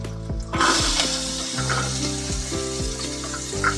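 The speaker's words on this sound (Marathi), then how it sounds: "कांदा घालते." Chopped onion dropped into hot oil with asafoetida sizzles and fries steadily for a chicken liver dish, a loud burst at first settling into a continuous crackle with occasional stirring clinks.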